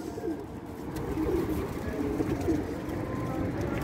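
Soft, low pigeon coos repeat over a steady murmuring background, fairly close and unhurried.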